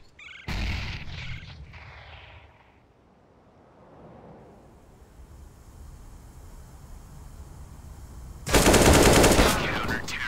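Video game combat: a loud burst of gunfire opens, then fades to a quieter stretch of rumbling ambience before a heavy sustained barrage of gunfire and a grenade blast near the end, all close and harsh.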